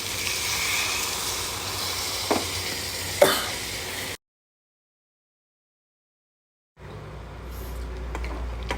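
Water poured into a pan of frying chopped onions gives a broad, hissing sizzle that breaks off into silence for a couple of seconds, then returns more softly, with a few clinks from the pan.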